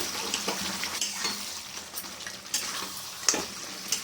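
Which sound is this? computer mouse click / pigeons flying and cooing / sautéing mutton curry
sautéing mutton curry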